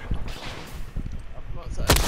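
Gunfire from the battle-royale video game Apex Legends: several loud, close shots over about two seconds, with a sharp crack near the end over a low rumble.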